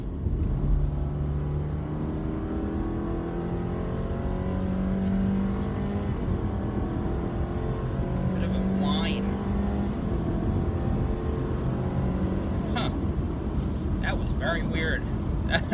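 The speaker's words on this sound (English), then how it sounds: "This thing has a whine to it, like it's like a supercharged whine" A 2019 Subaru Impreza accelerates hard, its engine rising with a thin whine and steady road rumble from inside the cabin while a person talks over it.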